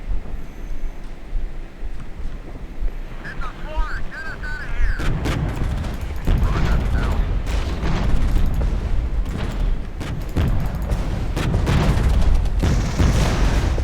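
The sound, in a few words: heavy artillery fire in the video game Regiments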